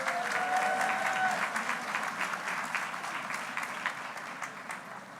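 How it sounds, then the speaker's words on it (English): A crowd at a library grand opening claps steadily, the applause fairly faint and slowly fading over several seconds. "Could we give them all a round of applause?"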